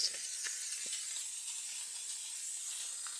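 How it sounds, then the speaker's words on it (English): Steady, soft hiss of a McCulloch MC1385 canister steam cleaner spraying steam continuously for a few seconds onto greasy grime, with faint clicks, no voices. "I'm going to just give a nice little spray down of steam"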